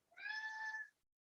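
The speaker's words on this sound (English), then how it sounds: "Meow. I got a little kitty below me." A single clear cat meow, close and fairly loud, lasting just under a second with nothing else around it.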